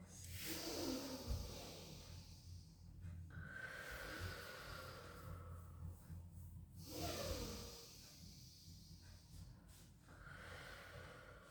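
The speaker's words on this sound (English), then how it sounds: "taking some lovely deep in and out breaths" Slow, deep breaths are drawn in and out during a child's pose in a Pilates rehab session, with long hissing inhales and exhales repeating steadily about every three to four seconds, close and fairly soft, with no talking over them.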